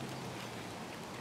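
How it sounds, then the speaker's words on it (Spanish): Light rain begins falling outdoors at an open-air cooking spot, a soft, even hiss of drops that runs steadily throughout. "Está empezando a llover."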